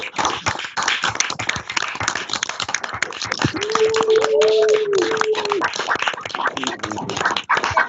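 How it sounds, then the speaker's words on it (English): During an online graduation ceremony, many participants clap with microphones switched on, a crackly, uneven mix of claps through compressed audio, with voices and a dog barking and whimpering in the background. "try to crash the system and give a clap to everyone"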